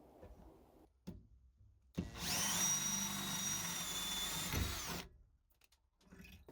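A power drill bores out an aluminium rivet, reusing the same bit: a loud, close, steady whine and grind lasting about three seconds, with quieter handling noises before and after.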